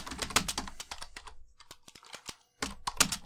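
Close, quick clicks from typing on a computer keyboard come in irregular bursts, with a brief lull of lighter taps before the typing speeds up again, and no voices are heard.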